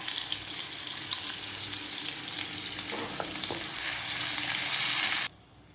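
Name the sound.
homemade masala frying in hot oil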